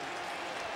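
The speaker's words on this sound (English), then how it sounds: "listen to the Steeler fans cheer" Steelers fans cheer and clap inside the stadium, a dense and steady wash of crowd applause that keeps going through the whole short moment with no voice on top.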